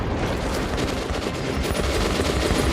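Sustained Gatling gun fire from the video game Metro: Last Light, a dense, continuous rattling burst of rapid shots that stays loud and steady throughout with no pauses.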